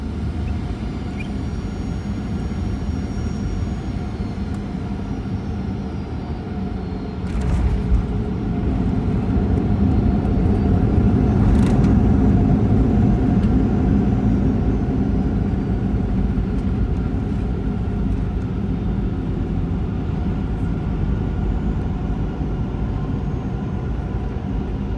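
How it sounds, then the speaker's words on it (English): Steady low engine and cabin rumble inside a Qantas Boeing 737 landing into Perth on a domestic business-class flight, a continuous broadband roar that swells slightly partway through with brief bumps, no talking. "I'll sign off here and let you enjoy the landing into Perth."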